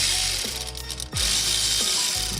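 A Milwaukee power ratchet spins off a 12mm bolt on a Nissan 350z brake assembly with a steady close mechanical whir. The motor dips briefly near the middle, then runs on continuously.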